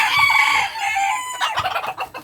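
Bantam hen, mother of two chicks, giving a short burst of close clucks and squawking calls, loud and agitated, with no talk over it.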